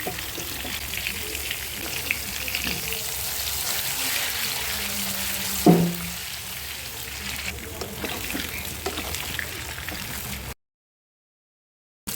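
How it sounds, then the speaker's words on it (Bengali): Pointed gourd rubbed with chili powder and salt sizzles as it deep fries in hot oil, a steady crackling hiss close by with a brief louder splash midway. A voice talks over it. "এটাকে ভালো করে মেখে ডুবো তেলে আমি এটাকে ভেজে নেব"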